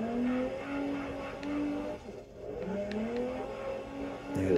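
Game car in CarX Drift Racing Online drifting with heavy turbo, engine whining up and down in pitch with tire squeal, moderately loud and continuous, a brief dip midway before revving again.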